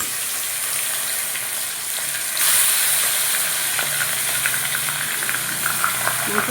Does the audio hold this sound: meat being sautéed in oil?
yes